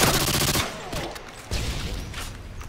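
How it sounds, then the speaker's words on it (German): Rapid automatic gunfire in the video game Modern Warfare 2 rattles loud and close in a fast burst, then breaks into a couple of shorter bursts with brief gaps between them. "Und die Waffe schießt wirklich super, super schnell."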